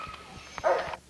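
Dogs barking in a kennel of pit bull terriers, a short muffled yelp rising over a noisy background with rhythmic low thumps.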